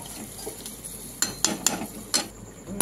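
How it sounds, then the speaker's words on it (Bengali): Metal clinks and knocks from a pan and lid being handled over butter chilli mushrooms cooking in gravy, several sharp close taps spaced across a quiet kitchen background. "এবার এটাকে দিয়ে দেবো ঢাকা।"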